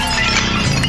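Glass bottles of Freixenet cava smash and shatter in a loud, dense burst of breaking glass that fills the whole short moment, with a bright clink near the end.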